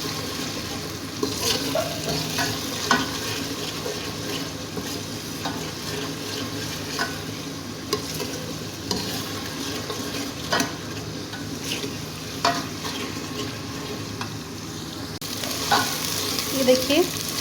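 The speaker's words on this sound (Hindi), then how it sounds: "अच्छे से हम इस तरह से भून लेंगे लहसुन अदरक के पेस्ट को भी" Garlic ginger paste sizzles and fries in a pot for a Dal Gosht dish while a spoon stirs and scrapes steadily through it, with occasional clinks against the metal, close and continuous with no talking.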